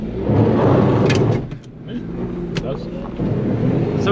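A Perodua Viva / Daihatsu Mira kei car accelerating hard at full throttle on a country road, its small engine droning loudly and steadily close by from inside the cabin, with a brief dip mid-way before the strain rises again; people talk over it.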